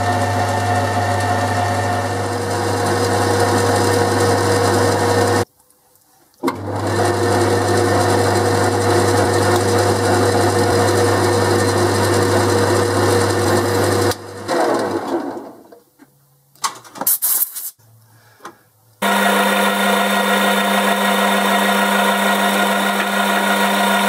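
A metal lathe machines a steel ER20 collet holder held in the chuck, giving a loud, steady humming whine that drops out briefly, then falters and stops before the motor starts running again.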